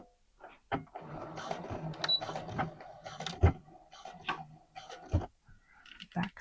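A sewing machine backstitches through legging fabric in short, uneven mechanical bursts and clicks with pauses between them, close and fairly quiet, with no talking.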